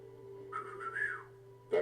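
A man whistles to imitate how wrestler Randy Savage called his German Shepherd: one faint, drawn-out whistle that rises and then falls, followed by a brief louder sound at the end.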